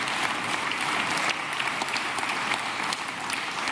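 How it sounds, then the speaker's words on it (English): Continuous, even applause from a summit audience for the judging panel of a Dragons' Den-style session, dense and full for nearly four seconds with no voices over it. "And some applause for the, actually, disappointingly less than fearsome Dragons"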